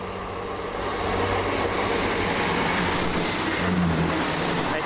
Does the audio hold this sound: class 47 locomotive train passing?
yes